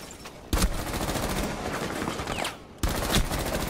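Gunfire in Rainbow Six Siege crackles with rapid repeated shots, with two sharp loud bursts standing out over a dense stream of quieter rapid fire.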